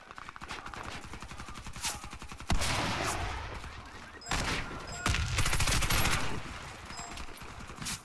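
Caliph rifle in the video game Warface firing in rapid bursts, loud close automatic gunfire in several runs with brief pauses between, no talking.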